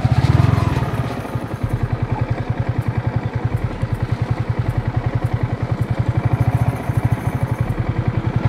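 A motorcycle on a village road throbs loudly nearby with a fast, even engine pulse that holds steady, a brief louder burst at the start.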